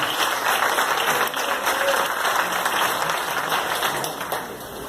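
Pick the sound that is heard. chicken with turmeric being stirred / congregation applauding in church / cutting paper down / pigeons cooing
congregation applauding in church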